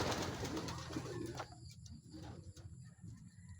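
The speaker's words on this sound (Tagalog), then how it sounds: "Ayan o, mga kalapatid o." Racing pigeons coo softly at a loft during a training race, a low steady murmur over constant background noise and a few faint bird calls.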